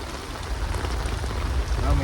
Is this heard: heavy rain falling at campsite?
yes